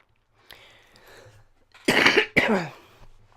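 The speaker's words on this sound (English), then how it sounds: "so I've now got a tickly cough" Two harsh, close coughs in quick succession, preceded by a faint breath or throat sound.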